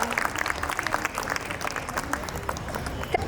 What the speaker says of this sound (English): A huge round of applause once again for all our superstars here.